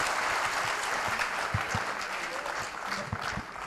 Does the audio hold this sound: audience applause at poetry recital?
yes